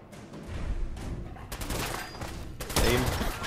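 Gunfire erupts in a Fallout 4 fight, a rapid burst of loud, crackling shots that begins mid-clip and returns in a second heavier volley, close and dominant over the background.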